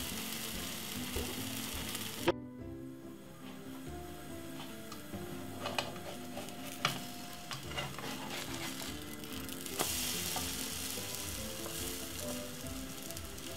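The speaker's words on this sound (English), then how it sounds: "bread into the milk and the sugar simple fry like this about two to three minutes." Milk-and-sugar-soaked bread fries for French toast with a soft, steady sizzle. Quiet ticks and spatula clinks come through now and then, and a brief hush falls early on.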